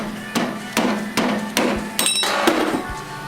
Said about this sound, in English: then we'll beat on it with the screwdriver until it goes flying across the room